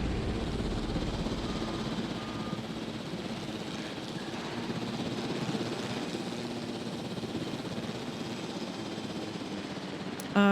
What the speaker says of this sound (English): Give me the helicopter.